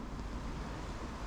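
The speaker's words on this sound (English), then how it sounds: "Very windy, very blustery." Strong, blustery wind buffets the microphone beside Ladybower reservoir, a dense continuous low roar with no pauses and no voices.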